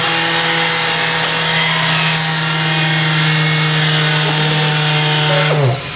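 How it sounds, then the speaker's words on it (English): A power tool grinding at a tire bead, a loud steady high whine with a strong tonal hum that winds down near the end, alone without talk. "grind lightly at the bead to clean it up"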